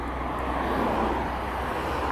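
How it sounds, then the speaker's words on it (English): Busy road traffic beside the Project Neptune fish dock works in Fleetwood makes a continuous, moderately distant roar with no pauses and no voices. "albeit the traffic's a lot noisier."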